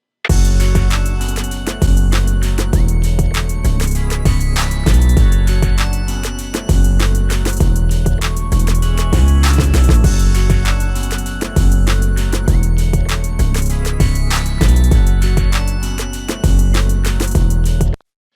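Punchy drums drive an MPC hip-hop beat built on a sampled loop, with steady kicks and snares repeating in even bars, loud and continuous with no voices.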